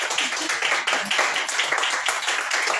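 A church congregation claps continuously together, dense and steady, close and fairly loud, with no voices standing out above the applause.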